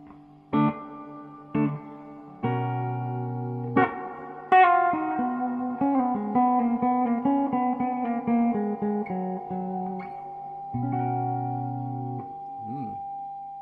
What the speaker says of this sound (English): Let's boost up the reverb.